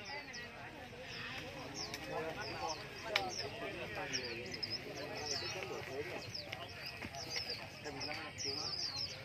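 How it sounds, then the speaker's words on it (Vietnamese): Caged songbirds chirp and call in quick, overlapping bursts at a busy outdoor bird market in Lạng Sơn, heard moderately close amid steady crowd murmur and voices throughout. "rất nhiều anh em mang chim ra chơi rồi đây có hai dàn chim nhiều dòng chim phết này"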